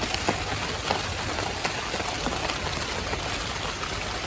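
Steady rain patters on surfaces, a constant close hiss with occasional louder drips, and no voices.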